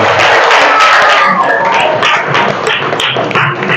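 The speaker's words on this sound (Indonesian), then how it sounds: "tepuk tangan untuk kalian semua" Children in a fourth-grade classroom clapping together after a lesson, a busy, loud patter of hands with some voices mixed in, lasting a few seconds.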